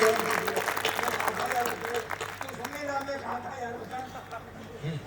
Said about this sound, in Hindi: चलिए एक बार जोरदार तालियां बजाइए